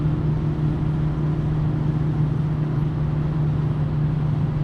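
A car driven pedal to the metal in its highest gear at around 140 on a trip to Hamburg, a loud, steady low engine drone with constant road roar inside the cabin.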